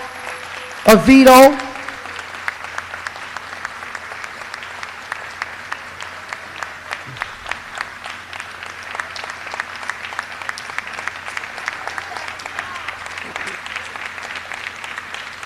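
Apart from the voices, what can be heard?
audience applause for Prince Joshua Avitto's family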